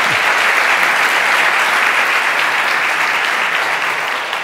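Dense, steady applause from a large audience at a tech talk on Android development, a continuous wash of clapping holding loud and even throughout before easing slightly at the end.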